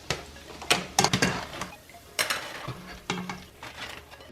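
Utensil scraping and clinking against a pot of hot oil as sugar donuts fry, with several sharp stirring clinks in irregular bursts over a soft background sizzle, close and moderately loud.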